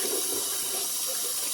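Steady hiss of heated tap water running into a sink for washing dishes, a continuous even rush with no pauses.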